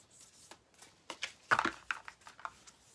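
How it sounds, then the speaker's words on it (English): A deck of animal spirit cards is shuffled by hand, giving quick, close papery flicks and rustles in irregular bursts. The busiest flurry comes midway, set against a quiet room. "I'm going to shuffle these old-fashioned way"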